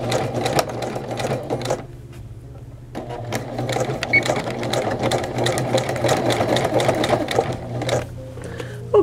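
A sewing machine sews the collar onto a women's button-down shirt, with a close, steady motor whir and rapid stitching clatter running in two stretches split by a short pause, ending with a faint click.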